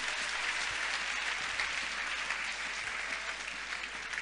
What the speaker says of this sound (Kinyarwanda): amashyi cyane